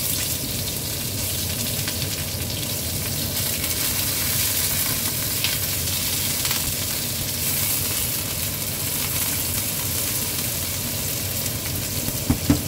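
Salmon and onions fry in a pan in a home kitchen, making a loud, continuous close-up sizzle with a steady crackling hiss, a couple of faint utensil taps near the end and no talking.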